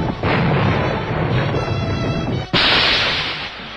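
A radar-controlled 4.5-inch naval gun fires aboard the Royal Navy ship HMS Bristol, giving a loud, close boom with a rushing roar and then a sharp second blast, with no voices.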